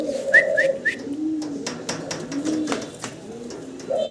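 A pair of large homer pigeons coo nearby in low, rolling, repeated phrases, with a few brief high whistles and light scattered clicks around them.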